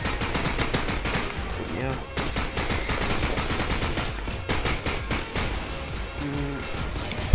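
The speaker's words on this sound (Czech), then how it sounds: "Akorát se ty kulomety sekají." Machine guns in the Call of Duty 4 Modern Warfare zombie mod fire in rapid, dense bursts almost without a break, loud and close, with a short spoken word partway through.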